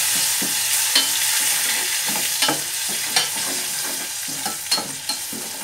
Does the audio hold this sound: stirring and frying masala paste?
yes